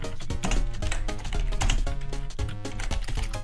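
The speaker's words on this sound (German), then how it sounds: "Man hört voll lautes Tippen." Loud, fast computer keyboard typing during an online Stadt Land Fluss game session: dense clacking keystrokes run steadily throughout over a continuous tonal background.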